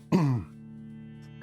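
A single close throat clearing, a short rough rasp lasting under half a second, followed by quiet room tone and a brief soft sound at the end.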